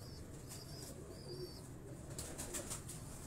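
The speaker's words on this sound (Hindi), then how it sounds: "ये वाले कबूतर हैं जी" Pigeons on a Lahore rooftop coo softly over a steady background hiss, with a few faint high chirps and light rustles scattered through the few seconds.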